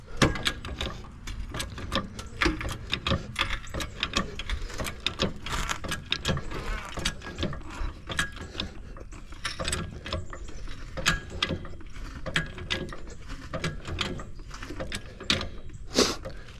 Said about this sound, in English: then we're gonna jack it on up